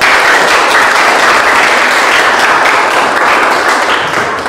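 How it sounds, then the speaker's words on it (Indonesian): Sustained, dense applause fills a classroom after a group discussion, loud and steady throughout with many hands clapping together. "Kita kasih tepuk tangan lagi"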